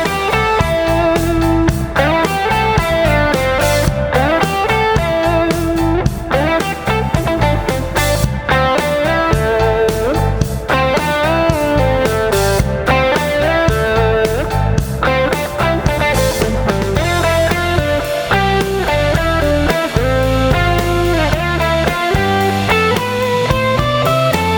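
Vinyl record playing an EarthBound video game music remix, dense and continuous with layered melodic synth lines and distorted tones throughout, loud and without talk.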